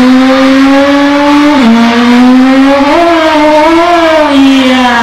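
A Honda GL Pro motorcycle engine revs loudly and up close in a sustained buzzing drone whose pitch dips and climbs in short surges, alone with no talking.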